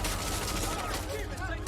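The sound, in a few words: gunfire in a TV show scene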